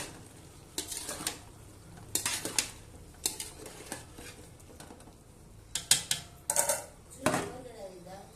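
Pots, lids and metal utensils clatter in scattered bursts while khichuri cooks, with a lid lifted and a spoon stirring the pot; sharp clinks and scrapes come close and loud between quieter stretches.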